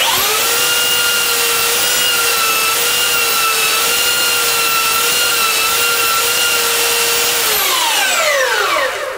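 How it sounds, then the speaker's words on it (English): A sanding machine whines steadily with a rough, scraping rub of rubber against the moving belt, then the motor spins down at the end. "It's just a sanding belt cleaner, and here's how it works."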